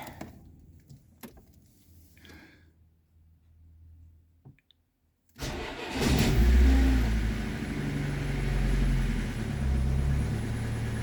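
An older car sits quiet with faint clicks and rustles, then its engine cranks and catches abruptly, settling into a loud, steady idle to warm up, close by and without talk.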